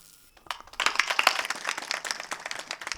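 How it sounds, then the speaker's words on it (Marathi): Kirtan audience at a memorial gathering breaking into clapping that starts after a short pause and quickly swells into dense, fairly close applause that holds steady to the end. "टाळी वाजूच वाटली तर, पण जर वाजवली तर त्याचा आवाज 2 किलोमीटर गेला पाहिजे"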